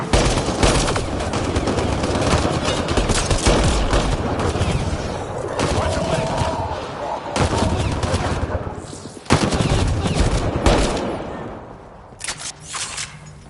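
Rapid automatic gunfire from the Mass Effect Andromeda video game, with dense bursts running almost continuously, brief gaps around the middle and sparser shots toward the end.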